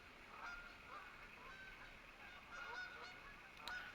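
Wild geese honking in open country, a scattered series of faint, distant calls repeating irregularly over a soft outdoor background.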